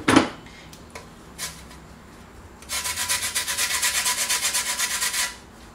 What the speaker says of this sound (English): I'm not going to zest the entire lemon, but you can use the whole one anyway.